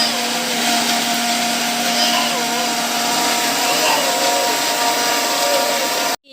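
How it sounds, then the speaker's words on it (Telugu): A kitchen mixer grinder whirs steadily as it grinds a bowl of spices into masala paste for a fish curry, a loud continuous motor drone with a shifting tone, then cutting off abruptly at the end. "అన్ని మసాలా దినుసులు ఒక బౌల్లో వేసేసుకొని మిక్సీ కొట్టేందుకు రెడీ అయిపోతున్నా."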